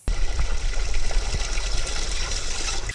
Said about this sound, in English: We're going to pour it into the brine tank.